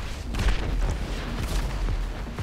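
A C4 explosive going off in the video game GTA 5, heavy low booms and rumbling blasts rolling through the whole stretch with no talk.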